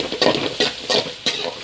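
Onions with salt sautéing in a pan, stirred in about four steady strokes with a close, soft sizzle and scraping between them, no voices.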